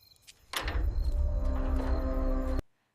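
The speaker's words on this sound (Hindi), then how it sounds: "दरवाजा जोर से चर्र की आवाज करता है" An old haveli door creaks loudly open in a single sustained groan of about two seconds, close and prominent, cutting off abruptly into quiet.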